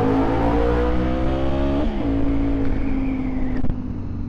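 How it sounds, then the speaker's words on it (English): A motorcycle exhaust revving close by, a loud steady engine drone with a dip in pitch partway through before it holds again, with no voices. "This exhaust will never get old."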